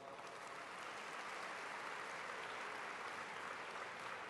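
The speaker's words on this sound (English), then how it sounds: "If we could just give them a round of applause" Audience applause at a large Islamic convention: a steady, even wash of many hands clapping, distant and faint, sustained throughout.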